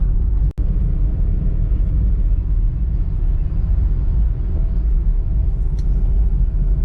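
A car driving on a busy road in traffic near Mandi Bahauddin, heard from inside as a steady, loud low rumble of engine and road noise with no break.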